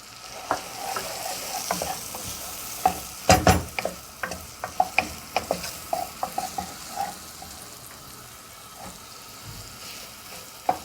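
Onions sauté in hot oil in a pot for Turkish tutmaç soup. A steady soft sizzle runs throughout, punctuated by frequent clinks and scrapes of a utensil stirring against the pan.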